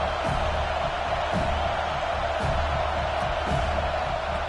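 A stadium crowd in a college football video game, FSU vs TCU, keeps up a steady, dense roar through a field goal attempt, with faint scattered shouts inside the wash of noise.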